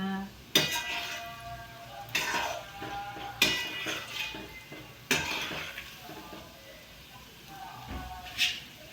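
A spoon stirs gulab jamun in a kadhai, giving a few sharp metallic clinks and scrapes spaced every second or two over a low kitchen background.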